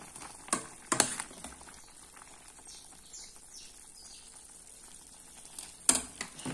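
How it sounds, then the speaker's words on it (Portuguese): Liquid in a cooking pot boils at a full rolling boil, a quiet soft bubbling texture broken by a few sharp clicks and pops, heard close with no talking. "quando estiver assim bem fervendo"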